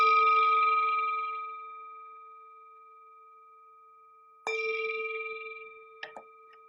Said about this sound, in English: The sound of this beautiful bell takes us back to our true home